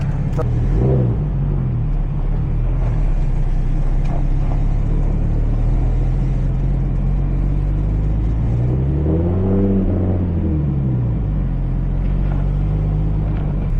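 A BMW 335i engine idles with a deep rumble, then revs up twice in a throttle test, rising and falling in pitch, before settling back to a steady idle.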